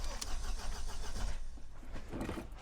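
A van's starter motor cranks as the key is turned, a steady mechanical churning lasting a couple of seconds, close and fairly loud in an enclosed space, with the vehicle in gear on concrete blocks and a suspected wiring fault from mouse damage.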